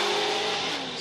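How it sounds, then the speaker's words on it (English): HGK Motorsport BMW drift car with Achilles tires at full throttle on the Long Beach street course during Formula Drift qualifying, its engine note loud, close and sustained as it races through the course. "Standing on the throttle."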